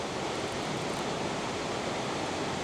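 A hidden turquoise waterfall in autumn pours with a steady, dense rush of water, loud and close, a broad unbroken roar without any voices.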